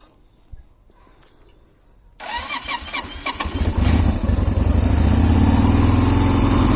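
A 1998 Yamaha Virago 125 motorcycle starts on full choke: quiet rustling, then the starter cranks and the engine catches, rising into a loud, steady, close idle.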